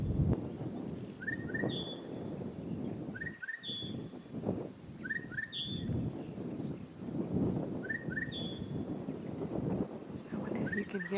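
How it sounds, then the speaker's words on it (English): An unfamiliar songbird calls outdoors, repeating a short rising two-part whistle about every two seconds, fairly near and clear over steady wind noise, with no talking. "This is an interesting sounding bird."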